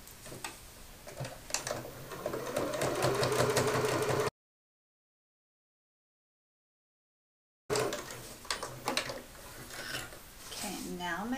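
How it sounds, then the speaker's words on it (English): A sewing machine top-stitches all the way around a tote bag flap, giving a close, steady mechanical whir with a fast ticking rhythm. A silent gap of a few seconds breaks the run before stitching resumes. "Just top stitch all the way around."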